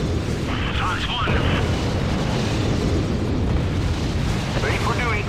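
An enemy air raid in the strategy game Act of War strikes with repeated explosions and rumbling blasts amid continuous battle noise, while unit voices talk over the din.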